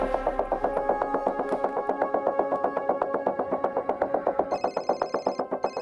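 A telephone rings with a fast, rattling bell trill, repeating steadily and fairly close, with no talking.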